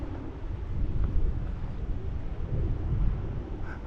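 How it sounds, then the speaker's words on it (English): Gusty wind buffets the microphone on a clifftop path above an isolated beach at Għajn Ħadid in Malta's Selmun area, a rough, low rumble rising and falling with no talk. "it's very windy though"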